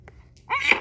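A baby girl lets out a single small, sharp sneeze, very close and brief, after a quiet moment.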